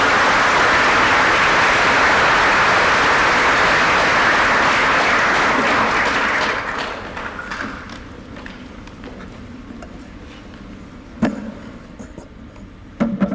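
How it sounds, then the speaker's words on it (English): An audience at a talk on cultural and prescribed burning claps loudly and steadily for about six seconds, then the applause thins into scattered claps, shuffling and faint room noise, with a few isolated claps near the end. "Another big round of applause for Dr."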